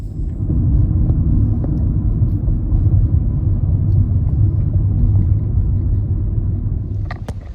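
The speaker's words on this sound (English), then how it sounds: "a lot of cars still driving by" Traffic on Highway 69 in stormy weather: a steady, loud low rumble of cars driving past that holds without a break from start to finish, with no voices over it.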